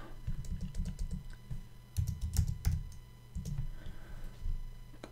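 Keys tapped on a computer keyboard while entering a formula into a Google Sheets spreadsheet, a close, quick run of soft clicks in short bursts with small pauses.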